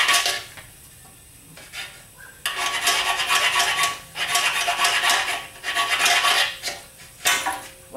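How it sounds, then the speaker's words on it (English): Metal file rasping inside a TH400 automatic transmission selector shaft in a workshop, in several loud, harsh back-and-forth strokes separated by short pauses, close to the microphone. "Got to file the inside of this selector shaft to get it out sometimes."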